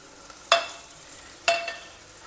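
Onions frying in a pan with salt until lightly browned, heard as two short, close bursts of sizzling and stirring about a second apart over a quiet background.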